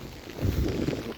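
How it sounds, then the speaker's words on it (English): Strong wind buffets the microphone of someone walking outdoors in cold rain, a low rumbling gust that swells midway and stays loud and close, with no talk. "Look how windy it is."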